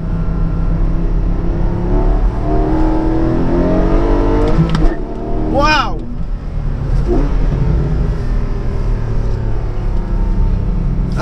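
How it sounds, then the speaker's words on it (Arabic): A 2020 Porsche Cayman 718 GTS with a 4.0-litre flat-six and manual gearbox revs loudly up close, the engine note climbing and falling in several sharp blips over a constant idle rumble, with a voice briefly exclaiming. "اكيد عم تسمعوا صوت المحرك، احلى صوت محرك بالعالم فلات 6"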